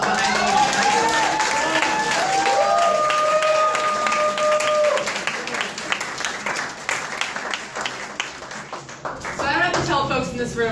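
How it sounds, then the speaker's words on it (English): An audience applauds, with dense clapping and a few cheers. A voice speaks over the start, then the clapping carries on alone and thins out toward the end. "I just want to give one more round of applause to John Prince"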